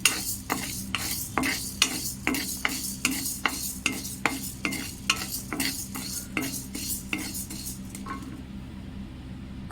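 Urad dal dry-roasted in a pan, stirred with a spatula in a quick, even rhythm of scraping strokes about twice a second over a faint hiss, close by, with the stirring stopping near the end.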